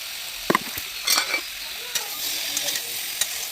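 Chopped garlic, salt and sugar frying in a pan for a pumpkin and fish-head dish: soft sizzling with a few scraping stirs and clinks, close and fairly loud.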